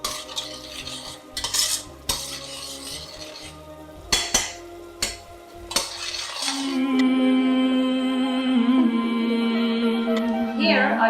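Tomato base with chili flakes and salt in a pot: metal spoon clinks and scrapes against the pot, then a steady bubbling simmer takes over, close and moderately loud.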